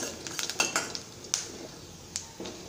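Garlic frying in oil in a pan while a metal spoon stirs it, making a run of close, bright clinks and scrapes against the pan over a faint background sizzle, with no voices.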